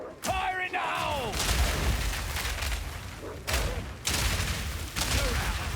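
Rapid bursts of gunfire from a mercenary's weapon in the Path of Exile 2 video game, loud and sustained in repeated volleys with short gaps, and a voice shouting briefly near the start.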